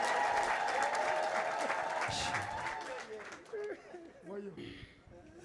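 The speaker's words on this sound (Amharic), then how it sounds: "እስኪ ለዚህ ጌታ እልልታ ጭብጨባ እንደ ከፍ ያለ" A church congregation bursts into loud, sustained clapping with high ululating cries, which fades after a few seconds as a voice begins speaking.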